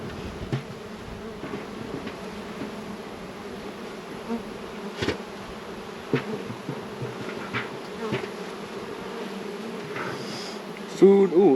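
Honeybees buzzing steadily around opened hive frames while nucs are moved into ten-frame boxes, a dense continuous drone close by with occasional louder passes of individual bees.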